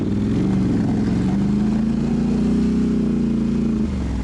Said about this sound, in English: let's go ahead and finish up this snow plow removal here on the driveway